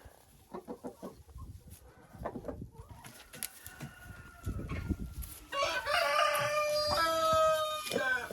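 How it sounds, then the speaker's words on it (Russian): Chickens in a coop area cluck in a steady scatter of short calls, with a rooster crowing loudly near the end, close and lively, no talk. "Курочки очень любят кушать ее, эту траву."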